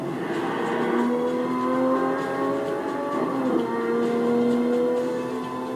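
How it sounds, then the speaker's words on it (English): V12 engine of a Lamborghini howling, a loud sustained wail whose pitch climbs in repeated rising sweeps as it revs through the gears, close by and alone without talk. "This V12 has basically been around since the Miura, and it too will die along with this car. And it is just as if it's howling."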